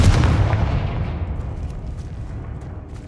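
A booming blast from the Confringo fire spell in Hogwarts Legacy, with a loud low impact that trails off into a fading rumble.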